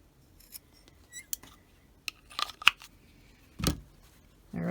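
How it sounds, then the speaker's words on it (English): Scissors make several short, crisp snips while trimming the fabric edge of a small doll-scale boho beach tote, quiet and close with brief pauses between cuts. "you can also just trim off a little bit on the edge so you don't have bulk down there"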